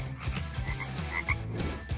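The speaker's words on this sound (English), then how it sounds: "Tree frogs confuse predators by croaking in almost perfect synchrony with each other." Tree frogs croak together in near-perfect synchrony, a dense overlapping chorus of repeated rhythmic calls that stays loud and close for the whole stretch, with no voices present.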